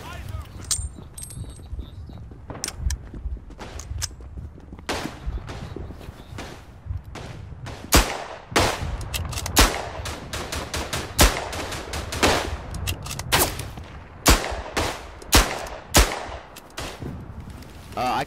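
Revolver shots ring out in the World War I shooter Verdun, with repeated sharp cracks and bursts of distant gunfire from the battlefield in irregular clusters, while a player talks over the shooting throughout.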